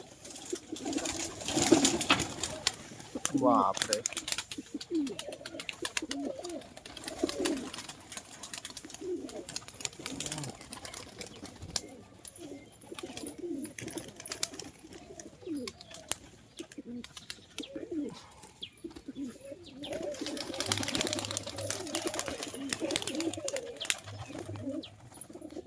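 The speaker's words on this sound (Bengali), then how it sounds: "পায়রা আরো ছাড়ছে" Andhra high-flyer pigeons coo steadily in low, rolling calls, many birds close by, with occasional wing flutters and chirps over a continuous loft murmur.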